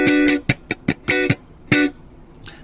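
Funk guitar rhythm with chords played on the third beat: short, choppy staccato strums in a syncopated pattern, close and clear with no talking, and a faint final stroke.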